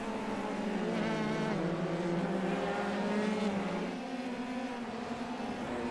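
F3 race cars in a sim racing game at the Hungaroring, engines droning loud and continuous with shifting pitch as they slow hard into a braking zone, no talk over it.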